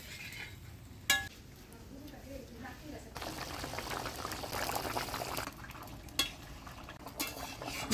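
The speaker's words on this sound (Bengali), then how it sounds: "এবার জল দিয়ে দিব।" Water poured into a pan of frying potato and squash curry, a rushing splash after a sharp clink of a utensil, with a second clink near the end and a low kitchen hiss beneath.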